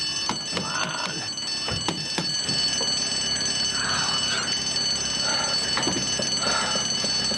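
An alarm ringing steadily in a house, a continuous high electronic tone that runs the whole clip without a break, with some knocks and faint voices around it.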